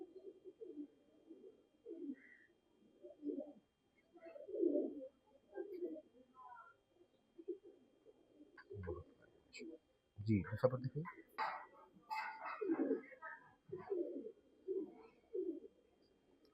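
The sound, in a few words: pigeons cooing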